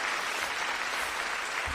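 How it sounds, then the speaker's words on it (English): Sustained applause from an audience at a hip-hop show, a dense wash of clapping filling the whole moment at steady loudness with no talk over it. "Give a round of applause for your boy."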